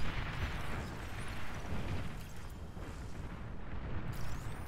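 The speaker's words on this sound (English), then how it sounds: "Frontline bombing runs." Bombing-run explosions in the strategy game Beyond All Reason: a dense, continuous rumble of overlapping blasts and distant booms, steady and heavy throughout with no break.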